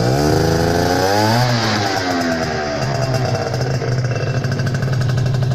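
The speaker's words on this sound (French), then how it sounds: "je vais vous faire écouter le bruit quand j'accélère" Scooter fitted with a Yasuni R Kevlar-edition exhaust revs up close by, a loud buzzing engine rising sharply in pitch over about a second, then settling into a steady, rough high idle that continues to the end.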